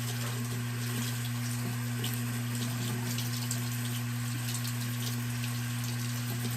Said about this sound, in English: You gonna wash your hands off?